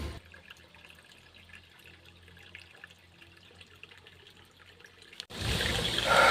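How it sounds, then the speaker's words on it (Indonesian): Clean spring water flowing steadily at a village spring in Gedangan, a soft continuous trickle close by, then a sudden louder rush of water for the final second. "Benar-benar bersih airnya, tapi sayang tidak bisa dikonsumsi."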